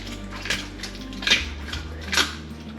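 A dingo chews and crunches on a raw chicken drumstick, giving several sharp bone cracks and wet crunches at close range over a low background rumble.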